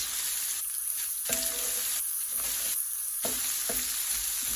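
One whole diced onion sizzles steadily in an Instant Pot, a bright continuous frying hiss broken by a few brief stirring scrapes, close and alone without talk.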